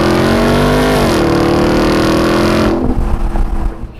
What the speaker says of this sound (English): the exhaust makes a bellowing sound out back